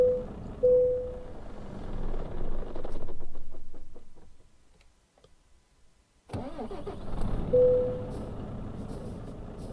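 A truck engine in Euro Truck Simulator 2 idles and revs as the vehicle pulls away from a stop, with a hiss of air brakes, a near-silent pause, then the engine rumbling back in loudly.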